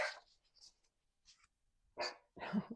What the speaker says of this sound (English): We're having a rainstorm, and my dog is getting ready to bark about it.